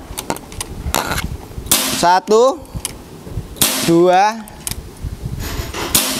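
Shots from a Bocap FX Mahameru wooden full-CNC PCP air rifle, a few sharp cracks spaced seconds apart, each followed by a brief whirring tone, with a man counting aloud between them.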